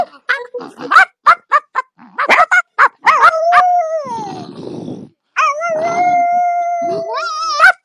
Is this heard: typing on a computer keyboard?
no